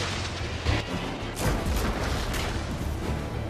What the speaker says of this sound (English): Thunderbolt missiles away